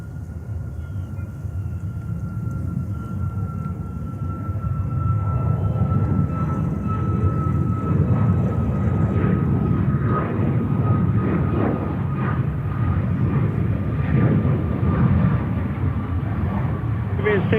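A Caribbean Airlines Boeing 737 MAX 8 jet at JFK Airport in New York gives a broad, steady roar that swells after a few seconds and holds at a constant distance, with faint voices in the background.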